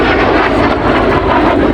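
A MiG-17 jet fighter passing at an airshow at Duxford, a loud, steady engine roar with broadband rushing noise filling the whole two seconds, close and with no voices.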